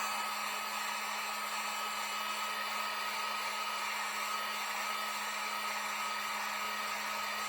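A heat gun or hair dryer warms adhesive on a Toyota RAV4 Prime door handle accessory, giving a steady, unchanging airy whir with a fixed hum, heard alone at moderate level.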